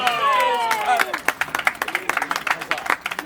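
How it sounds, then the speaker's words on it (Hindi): Wedding guests at a Hindu phere ceremony in Haridwar break into loud, brisk clapping after a voice briefly rings out at the start; the claps come close and sharp, uneven at first, then quickening into a busy patter. "जोरदार ताली हो जाए"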